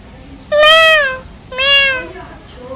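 A voice imitates a cat with two drawn-out meows, one after another, close and fairly loud.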